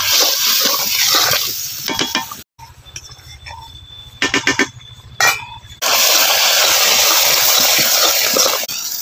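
Cabbage and spices stirred and tossed in a hot pan, a loud steady sizzle with scraping, broken by a short quieter stretch of clatter and knocks before the sizzling returns at full strength.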